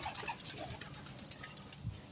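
Pigeons on a pigeon farm give soft, low coos, quiet and somewhat distant, with one fuller coo standing out near the end over faint background hiss.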